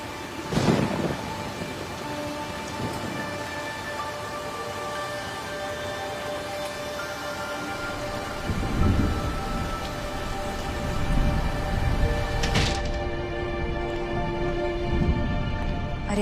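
Steady rain hisses throughout as thunder cracks and rumbles in several loud bursts, with one sharp clap near the start and heavier rolling peals later on.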